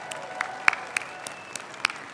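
Applause from a university commencement audience in an early-morning ceremony hall, steady scattered clapping with sharp individual claps standing out, moderately loud, no voices over it.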